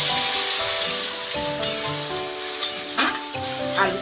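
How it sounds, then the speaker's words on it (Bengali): Water goes into a hot pan of frying potatoes for aloo posto, with a steady sizzling hiss punctuated by several sharp clinks and scrapes of a utensil. "এবারে দেখুন আমি নিজে জল দিয়ে দিচ্ছি।"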